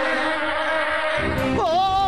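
Cartoon bees buzz loudly and continuously, the whining drone wavering and bending in pitch toward the end, with no talk over it.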